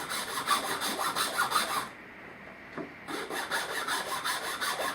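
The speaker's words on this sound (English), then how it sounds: "I'm going to take the hacksaw and I'm just going to cut my way toward" Hacksaw cutting through a wooden board by hand to notch toward a drilled hole: close, steady back-and-forth rasping strokes in a regular rhythm, a pause near the middle, then the strokes resume.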